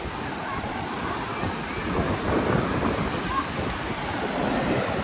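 Steady roar of surf washing in at Smiths Beach with the tide coming in, a continuous broadband rush with gentle swells in loudness and wind buffeting the microphone.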